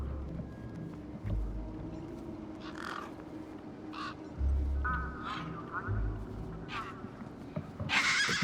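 Harsh, raspy crow-like caws from a bird in the game Beyond a Steel Sky, several separate calls spaced irregularly over a low ambient hum, with a voice speaking faintly in between.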